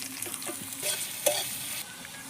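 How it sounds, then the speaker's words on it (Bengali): Onions hit hot oil in a wok over a wood-fired clay stove, tempered with whole cumin and dried chillies; a close sizzle with scraping stirs that flares sharply once, then settles to a quieter hiss, no voices. "কড়াইতে তেল গরম করে নেব গোটা জিরে আর শুকনো লঙ্কা ফোড়ন দেব বেশ কিছুটা পেঁয়াজ দিয়ে দিলাম"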